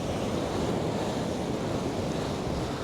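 Strong wind buffets the microphone on a fishing beach while surf rolls in, a dense, unbroken roar of rushing air and breaking waves filling the whole stretch.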